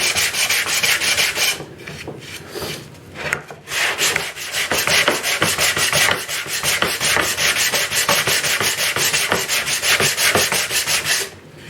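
Sandpaper rasping back and forth across wood in quick, steady strokes, close and loud, with a couple of brief pauses early on.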